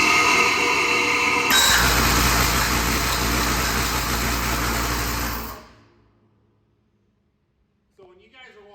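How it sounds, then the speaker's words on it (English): A relief valve chattering rapidly on non-flowing piping, a loud broadband rattling roar that holds steady for several seconds and then cuts off abruptly into near silence, with a faint clatter afterward. "I believe what's going to happen when I run this is that valve is going to be significantly more unstable."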